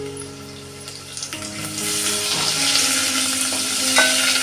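Ginger, garlic and chili paste fries in a pan, a steady sizzle with scraping stirs that grows louder and busier over a few seconds, with no talk.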